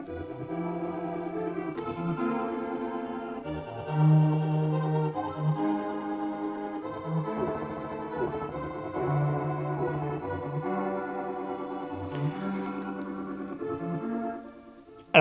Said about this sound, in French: C'est le son de la Super Famicom.